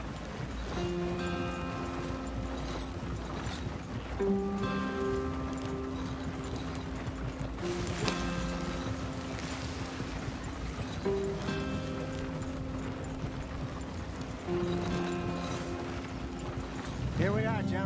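Horse hooves in the video game Red Dead Redemption 2, a steady galloping clip-clop heard under game music and character voices that talk throughout.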